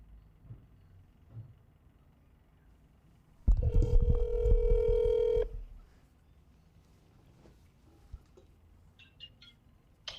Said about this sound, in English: let's take a phone call now